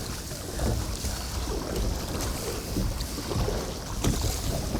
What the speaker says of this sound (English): There's the wind.